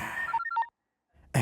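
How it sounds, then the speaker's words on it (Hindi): Phone ringing in a dubbed South Indian film scene: a short electronic melodic tone pattern of rising and falling beeps, then a moment of silence before the next sound starts. "फोन आ गया"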